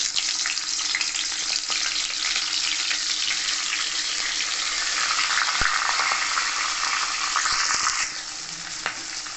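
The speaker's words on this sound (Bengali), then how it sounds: "এবার মাছের মাথাটাকে আমি ভেজে নেব।" Fish head frying in mustard oil in a kadai, a steady loud sizzle that holds throughout with occasional spatula scrapes and a slight drop near the end.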